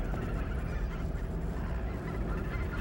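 Winter migratory birds wintering in Korea call together in a dense, continuous chorus of honking and gabbling, a steady outdoor din with no single bird standing out.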